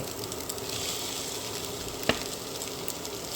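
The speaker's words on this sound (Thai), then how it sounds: "ผัดข้าวกับไข่ให้เข้ากัน" Egg fried rice stir-fried in a pan, a steady close sizzle with one sharp utensil tap partway through.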